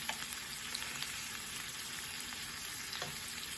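Apples cooking with white and brown sugar in a pan give off a steady, fairly quiet sizzle and bubbling hiss, with a few faint clinks and no voices.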